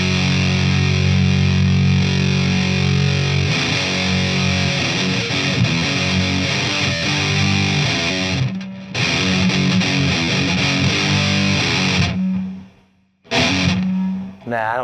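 Electric guitar through a Marshall DSL overdrive pedal with a Tube Screamer in front, chugging thick distorted chords and riffs, loud and close, with a brief drop to near silence before the playing resumes.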